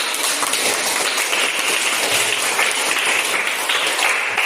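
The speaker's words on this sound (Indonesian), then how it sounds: "tepuk tangan" A classroom of students claps hands together, a dense, steady patter of many hands held at an even loudness throughout, with no voices rising above it.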